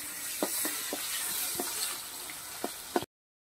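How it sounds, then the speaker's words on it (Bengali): Bitter gourd pieces fry quietly in oil with a soft, steady sizzle and a few scattered light knocks from the pan, fairly faint, stopping abruptly near the end. "উচ্ছেগুলোকে দিয়ে দিলাম, সবশেষে উচ্ছেই ভাজতে হয় শুক্তো।"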